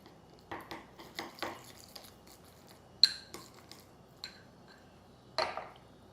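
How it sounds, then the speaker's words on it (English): Minced pork being mixed with light soy sauce for a silken tofu dish, heard as a handful of soft, wet clicks and scrapes of a utensil against a bowl, spaced irregularly and fairly close, with no talking. "Give it a good mix."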